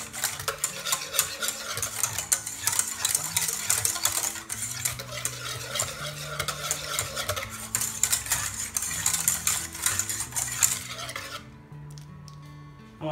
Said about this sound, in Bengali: আবার মিক্স করব।